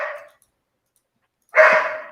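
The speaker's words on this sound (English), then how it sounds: "this dog is barking like crazy." A dog barks twice, a short sharp bark followed after a pause by a louder one, fairly close in an indoor workshop setting.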